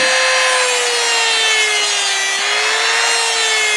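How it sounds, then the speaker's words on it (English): A rotary tool spins a felt polishing wheel against a painted piece, giving a steady, loud, high whine with a slowly drifting pitch and a constant rasping buzz, close and uninterrupted with no talk. "we'll use a regular rotary tool with a felt polishing wheel"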